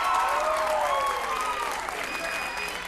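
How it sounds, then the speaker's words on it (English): Sustained audience applause, a dense, even wash of clapping from a crowd, with faint voices speaking over it. "Give yourselves a round of applause."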